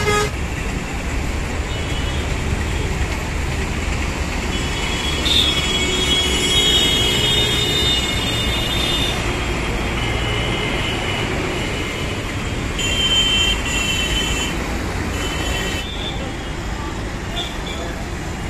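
A Delhi Metro train rumbles steadily nearby, with high wheel squeals and brief tones rising over the heavy rail noise, and voices faint in the background.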